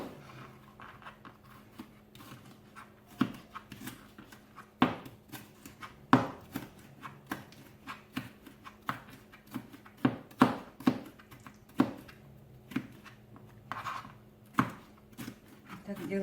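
A knife cuts a red bell pepper into thin strips on a cutting board, giving irregular sharp chops of varying loudness close by. Quiet background noise sits beneath the cutting.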